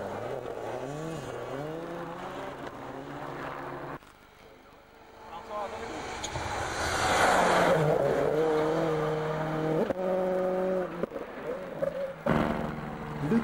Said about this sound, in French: Arrive ensuite François Delecourt et la 206 WRC